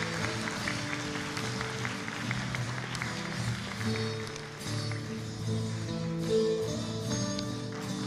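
Graduates of the nursing and midwifery programmes at a medical university branch in Varna receive applause at their 2023 graduation ceremony, a soft, continuous patter of clapping from the audience that swells and fades slightly.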